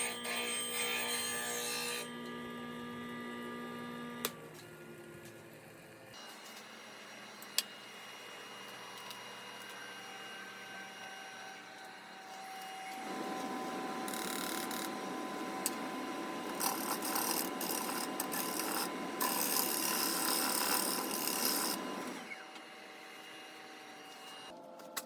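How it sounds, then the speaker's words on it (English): A bench grinder hums steadily while a negative rake woodturning scraper is held to the wheel to restore its burr, with a louder, rougher grinding contact of about ten seconds in the middle of the run. "I'm just reapplying the burr by taking it to the grinder"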